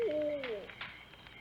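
An owl hoots at night in an old Western outdoor scene, one smooth falling call followed by softer fainter tones, heard at moderate distance over a low background hiss.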